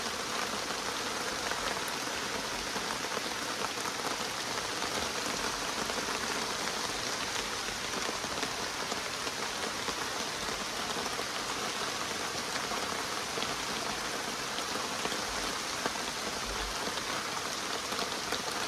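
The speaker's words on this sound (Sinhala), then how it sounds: "මේ කැමරාවට පේන්නේ නැහැ මාර විදිහට වහිනවා හැබැයි" Heavy rain pours steadily over a forest hut in the countryside, a dense, unbroken hiss of drops drumming on surfaces that stays loud and even throughout with no voices.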